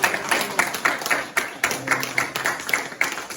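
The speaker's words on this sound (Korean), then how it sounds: "우리 아까보다 더 한 2배 정도 큰 박수로 하나님께 영광" Worship congregation at a Korean high-school church service clapping in rhythm, distinct close claps repeating in a steady beat with a brief pause partway through.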